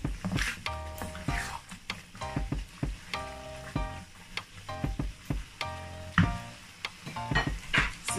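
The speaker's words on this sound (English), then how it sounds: "Now I'm going to add my fry meat. I'm going to mix it together." Fried meat being stirred into a pot of smoky ayamase stew, a steady sizzle and frying crackle under repeated scraping stirs of a spoon against the pot, close and moderately loud.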